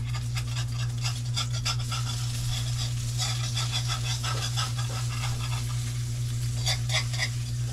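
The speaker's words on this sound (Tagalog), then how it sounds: "Nagpilit ang atong itlog. Niluto. Kulang-kulang ni siya oil." An egg frying in a pan with a little oil gives a steady, close crackling sizzle with bursts of spitting, over a constant low kitchen hum and with no talking.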